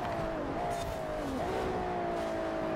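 A drift car engine in Forza Horizon 4 holds a steady, droning rev with slight pitch shifts while the car slides, continuous and moderately loud throughout.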